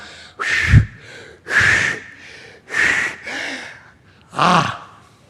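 A preacher mimics the panting breath of a woman in labor during a late-night sermon, with four loud, forceful gasping breaths spaced about a second apart, close and without words.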